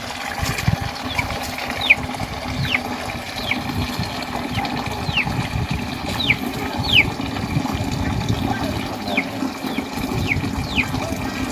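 Hot water running steadily from the outlet pipe of a traditional natural water heater in Himachal, a continuous splashing flow with faint chirps over it and no talking.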